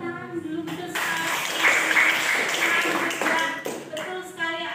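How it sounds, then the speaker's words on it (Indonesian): A group of children claps together in quick, scattered applause in a classroom, with voices talking over and between the claps. "tepuk tangan dulu, betul sekali."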